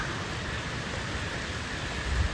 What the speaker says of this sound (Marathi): सध्या पाऊस चालू आहे भरपूर